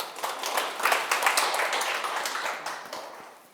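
Audience applauding together, a dense wash of clapping that holds steady then gradually fades out over a few seconds.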